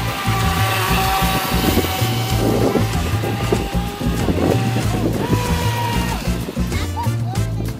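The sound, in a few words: Volantex Blade RC boat motor running on lake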